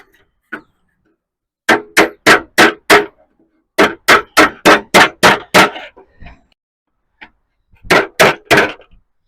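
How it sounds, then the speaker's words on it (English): Hammer striking a dolly on a 1960 Chevy Biscayne steel door panel: quick, loud, close metallic raps in bursts of four to seven blows, with pauses between groups and a few single taps. "hammer and dolly"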